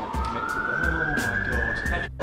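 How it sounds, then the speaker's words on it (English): Police car siren wailing steadily and fairly close throughout, a continuous rising tone over background chatter and movement in a parkour escape room setting, briefly cutting out near the end. "Police sirens aren't making me any less anxious."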